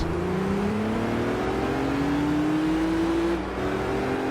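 Gran Turismo 3 car fitted with a racing exhaust, its engine droning steadily and close with a slowly rising, revving pitch, then dipping briefly near the end.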